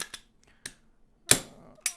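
Glock 34 pistol being cleared, a short run of crisp metallic clicks and one louder slide snap close up, with no talking.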